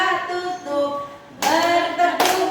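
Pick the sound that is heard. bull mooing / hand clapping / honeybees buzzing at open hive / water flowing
hand clapping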